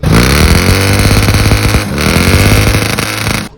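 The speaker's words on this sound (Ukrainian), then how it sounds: "далі ми прогріваємо мотоцикл" Dnepr MT11 motorcycle with PZ30 carburetors idling as it warms up, a loud close steady rumbling engine that runs evenly and cuts off at the end.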